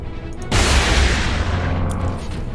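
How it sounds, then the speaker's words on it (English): A las cannon fires in Warhammer 40,000: Space Marine with one sudden heavy blast that rumbles and decays over a couple of seconds, loud and close, with no talking. "I think the shield can actually take a las cannon shot, though. I'm going to test that."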